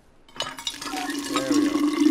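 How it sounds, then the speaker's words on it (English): A water pump in the video game We Happy Few gushes, and the flow of water builds steadily from silence into a full, close splashing stream. "I'm trying to use the pump myself, guy"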